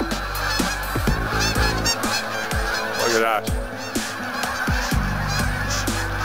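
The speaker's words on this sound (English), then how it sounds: "Geese. Tons and tons of geese." Large flock of geese honking loudly and continuously at a karst sink area near Hamilton, Ontario, overlapping calls from many birds close by, with a brief spoken remark mixed in.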